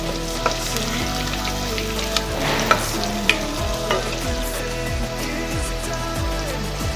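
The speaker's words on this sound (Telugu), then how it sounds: "ఇవి లైట్ బ్రౌన్ వచ్చే వరకు వేయించాల." Food fries in a home kitchen pan while being stirred toward light brown, a steady oily sizzle under a few sharp scrapes and knocks of the spoon against the pan, close and with no talk.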